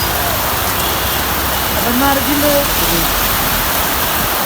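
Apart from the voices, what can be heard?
heavy rain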